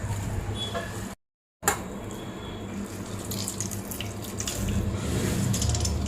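Water trickles and drips as grated raw mango is squeezed by hand for gunda pickle, a continuous close splashing stream that breaks off briefly near the start, then resumes and grows slightly louder and fuller.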